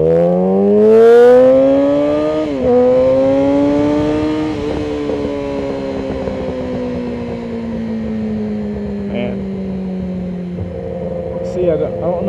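Motorcycle engine revving up through gears with rising then steadily falling harmonic whine, loud and close, as the bike accelerates and cruises away.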